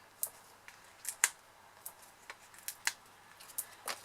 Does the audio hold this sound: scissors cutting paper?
yes